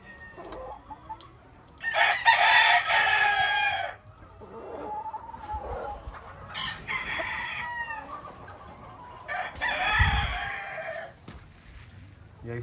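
Black Caballo de guerra gamefowl roosters at a gamefarm crowing in several loud, drawn-out bursts, with clucking and farmyard noise between the crows.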